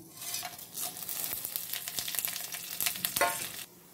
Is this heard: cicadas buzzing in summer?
no